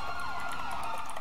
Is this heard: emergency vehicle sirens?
yes